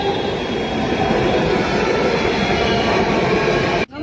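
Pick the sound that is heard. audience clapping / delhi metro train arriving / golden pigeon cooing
delhi metro train arriving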